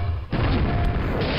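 A grenade blast in the classic first-person shooter Quake, a single loud deep boom with a crashing burst that hits abruptly and rumbles on briefly.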